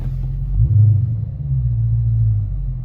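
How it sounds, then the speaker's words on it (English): Dodge Challenger 2023 engine revving during launch control, a deep loud rumble that swells briefly then holds steady, close and alone without talk. "it's gonna tell you to launch, press the brake quickly, and apply throttle"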